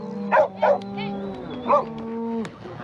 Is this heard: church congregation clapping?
no